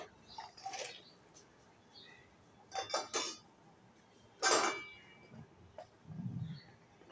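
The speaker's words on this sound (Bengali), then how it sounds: "এবার বড়াগুলো দিয়ে দেব।" Fried lentil dumplings dropped into a pot of simmering bottle gourd and bitter gourd: a few brief clinks and soft plops of utensils against the pot, spaced apart and fairly quiet in a still kitchen.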